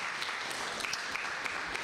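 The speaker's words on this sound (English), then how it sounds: "Please clap for Academic City." An audience at a university parents' night claps in a brief, continuous burst of scattered hand claps, fairly distant and moderate in loudness, lasting under two seconds.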